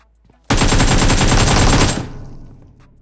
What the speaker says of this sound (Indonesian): Sini ya, ada tembak ya.